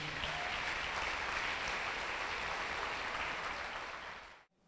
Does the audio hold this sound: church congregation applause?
yes